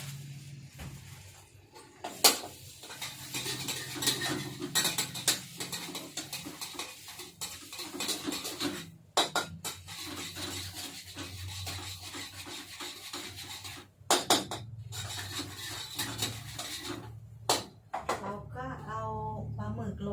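Repeated scraping and rubbing of a utensil stirring palm sugar into sour curry with bok choy in a pot, irregular and close, with someone talking over it.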